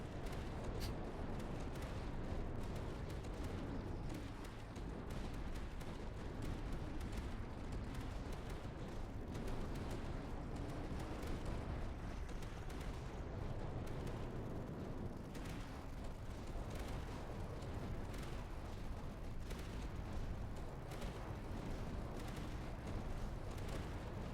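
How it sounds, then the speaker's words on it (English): Steady rumbling howitzer artillery fire in the Tower Dominion tower-defense game, a continuous distant barrage of booms and pops layered over constant battle noise, fairly faint and unbroken throughout. "that howitzer is putting some decent work there"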